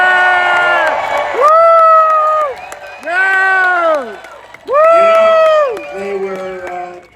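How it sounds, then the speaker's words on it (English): A large rally crowd at a campaign event in Mosinee, Wisconsin roars in loud waves of cheering and chanting, with rising and falling shouted voices repeating in several bursts. "This is a big crowd."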